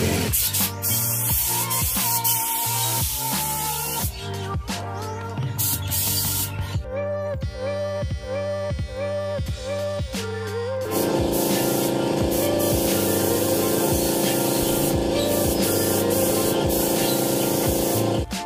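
Steady hissing spray from an aerosol can of gray primer runs continuously, close up and fairly loud, with brief dips between passes.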